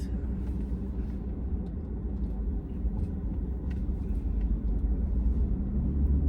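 Ford F-150 XLT with the 3.5 EcoBoost twin-turbo engine and about 60,000 miles on it, driving with a steady low engine and road rumble heard from inside the cab, continuous and even throughout.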